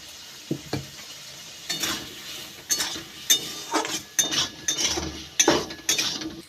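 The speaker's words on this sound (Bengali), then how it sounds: "এইবারে হলুদ গুঁড়ো, লবণ দিয়ে আলুগুলো ভালো করে ভেজে নেব।" Potatoes fry with turmeric powder and salt in a pan, sizzling under irregular stirring scrapes and occasional metallic clinks of a utensil against the pan, close and fairly loud.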